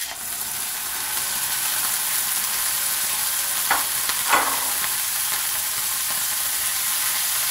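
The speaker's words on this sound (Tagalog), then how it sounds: "Lagay na po natin yung ground beef." Ground beef frying in a pan, a constant bright sizzle with a few louder scrapes of a utensil stirring partway through, close and steady.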